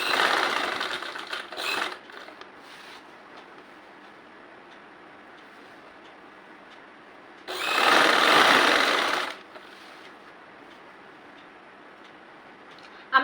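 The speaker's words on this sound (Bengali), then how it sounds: "এখন আমরা সেই সাইড ফাড়াটি সেলাই করব" A sewing machine stitches the side slit of a maternity petticoat in two bursts: a longer run at the start with a brief pause, then a louder, steady burst of stitching midway, separated by quiet.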